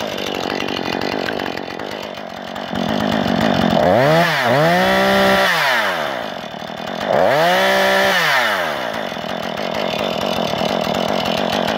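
A Husqvarna 440 chainsaw runs loudly up close, steadily idling and revving, with two sharp dips and rises in engine pitch as the chain brake is engaged, all without any talking.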